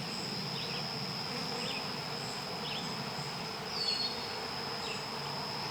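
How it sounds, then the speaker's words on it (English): Honey bees hum softly around beehive frames, a faint steady buzz with an occasional insect passing close to the microphone against quiet background noise. "But I have bees buzzing around me."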